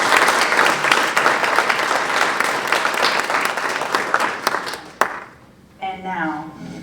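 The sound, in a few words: audience applause for a poetry performer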